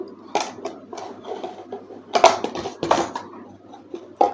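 Flour being mixed by hand with salt, chili powder, cumin and black pepper in a bowl, heard as soft irregular rubbing and light bowl knocks, several louder clatters near the middle and end, fairly close.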